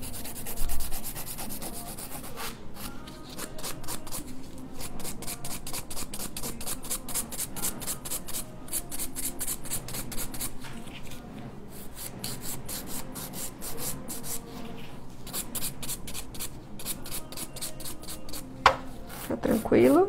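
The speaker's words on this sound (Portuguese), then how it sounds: "Vou lixar o resto." Acrylic almond-shaped nails are filed with a nail file, producing rapid rhythmic scraping strokes in long close bursts with short pauses, while someone talks briefly near the end.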